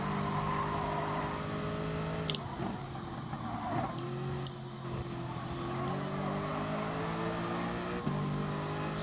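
A racing car in Gran Turismo Sport during a Manufacturers Cup race, its engine droning and shifting pitch through gear changes and braking, with sharp bumps from contact, steady and close throughout.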